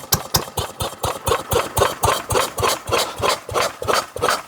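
Ruston PB8 engine, freshly fitted with a new big end shell, runs in a steady, loud thumping rhythm of heavy regular beats, close by and with no talking.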